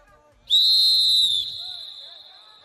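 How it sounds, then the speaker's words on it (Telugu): A long, loud whistle is blown at a sports competition for legislators, held steady for about a second before trailing off against faint crowd murmur. "ready for long whistle"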